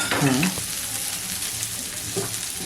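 Prawns for tandoori sizzle on a hot tawa with a steady, soft frying crackle. A brief voice-like tone sounds at the start and again near the end.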